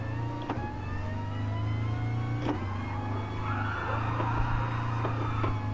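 A VW Bus sliding sideways in GT Sport, its engine droning steadily with a rising mechanical whine and a few sharp transient clicks, heard alone without talk.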